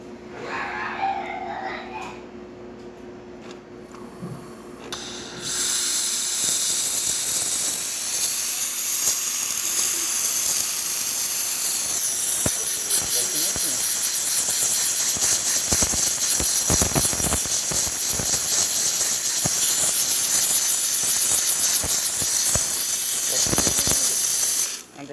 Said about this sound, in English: Nice steam.